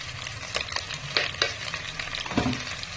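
Onion paste fries in a pan with a steady soft sizzle while a spoon stirs and scrapes it in repeated strokes, close and moderately loud.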